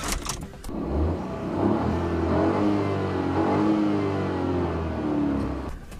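A 2014 Ford Fiesta with a 1.0L EcoBoost turbo engine cranks and fires, then settles into a steady, loud idle with rising revs that hold for several seconds before fading, heard up close with no talk.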